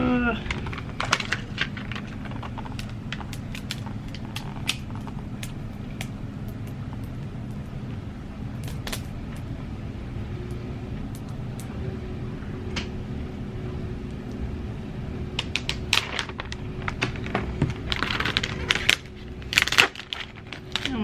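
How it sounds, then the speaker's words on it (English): Strong transfer tape is peeled slowly off a craft sign, producing a continuous soft crackling, tearing rasp with scattered sharp snaps and pops, close up and fairly quiet throughout. "I have to peel off the transfer tape"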